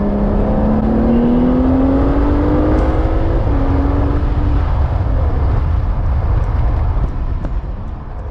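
A 2021 Aston Martin DBS Superleggera's engine drones loudly from inside while driving, its pitch climbing steadily under acceleration, briefly dipping at a shift, then continuing as a broad whirring roar with road noise.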